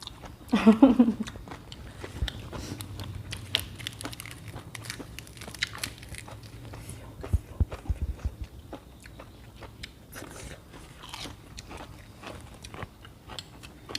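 Close-up crunchy chewing and biting of spicy seafood eaten with crisp fresh vegetables and bitter melon, irregular crisp bites and mouth sounds throughout with a burst of louder crunching early on.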